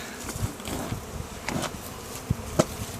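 Honeybees buzz in a dense, continuous drone around the hive during honey harvesting, with individual insects passing close and a few soft bumps and clicks.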